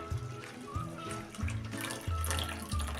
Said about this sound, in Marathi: त्यामध्ये आता हे गरम पाणी टाकून घेऊया